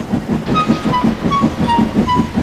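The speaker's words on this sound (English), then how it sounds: "She had to stop to let another train pass." A train rolls past a road crossing, its wheels beating a steady clickety-clack rhythm with a low rumble and faint squealing overtones, close and loud throughout with no talk.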